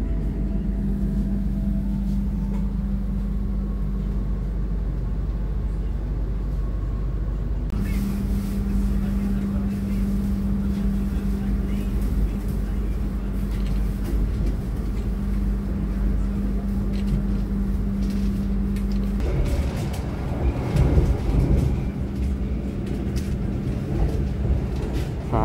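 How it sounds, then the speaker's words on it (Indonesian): The Mutiara Selatan passenger train runs through Kemiri station without stopping, a steady low engine drone and rolling rumble with a sustained tonal hum, shifting in character midway as the ride continues. "Saat ini kereta api Mutiara Selatan sedang melintas langsung stasiun Kemiri ya"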